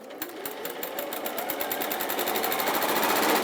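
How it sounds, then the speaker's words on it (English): A 680 sewing machine stitches a quarter-inch seam in pale fabric with a fast, steady mechanical clatter. The needle rhythm speeds up slightly and grows louder as it runs, with no voices over it. "How are you enjoying our 680 sewing machine?"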